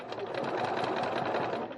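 A sewing machine stitches a foam-lined phone pocket on a bowler bag, a rapid, even needle chatter running continuously at close range for a short burst.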